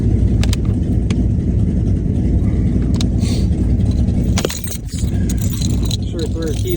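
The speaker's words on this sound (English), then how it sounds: "Sure, throw our keys on the ground." Keys from an Acura RSX jangle as they are tossed onto the ground, a brief metallic clatter over a steady idling engine and exhaust drone, with people talking nearby.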